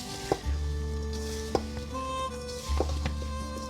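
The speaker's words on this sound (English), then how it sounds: "And then I'm going to stir this up and get those apples coated." Apples with cinnamon and apple cider being stirred in a pan, a quiet scraping and soft sloshing with a few sharp utensil knocks against the cookware at irregular intervals.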